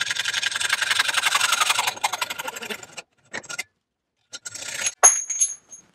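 A hacksaw cuts through a mountain bike fork steerer tube, a steady rapid rasping of strokes for about two seconds, then slower broken strokes and scattered metallic scrapes and clinks, close and moderately loud.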